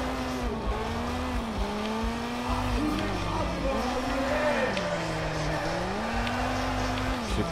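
A race car slides and squeals its tires in the Shift 2 Unleashed racing game, with a steady, loud engine drone that rises and falls in pitch through the drift and no break in the sound.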